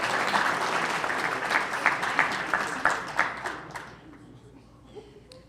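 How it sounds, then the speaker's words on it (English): A high school football banquet audience claps in a dense burst of many hands, loud at first, then thinning out and fading to a few scattered claps near the end. "Now you clap."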